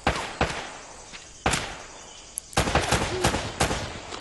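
Sharp gunfire bursts from an enemy firefight in Uncharted: Drake's Fortune, several loud separate volleys and rapid shots spread across the span, with scattered impacts between them and no talking.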